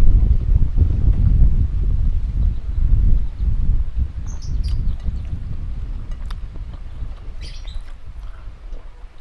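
Wind blows across an outdoor eating spot in a village, a low buffeting rumble that slowly eases, with a few faint bird chirps later on.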